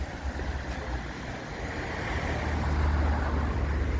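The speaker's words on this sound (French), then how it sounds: "on a enfin quitté le bruit des voitures" Steady low rumble of car traffic passing nearby at Sainte-Maxime, a continuous road noise that swells slightly toward the end.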